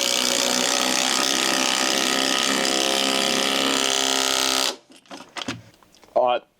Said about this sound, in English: that's definitely good that it can drive the 75mm concrete screw in